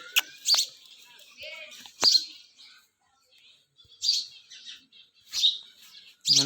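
Bright little house sparrow chirps come in short bursts with pauses between, a few calls against a quiet background.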